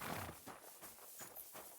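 Horses pulling a wagon in Kingdom Come: Deliverance 2: faint, rhythmic clip-clop of hooves at a steady walking pace, soft and fairly distant, with no voices.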